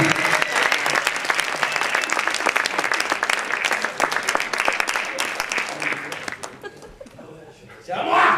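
Audience applause fills a slam poetry event, dense and steady clapping with chuckles mixed in, fading briefly near the end before a fresh burst swells back.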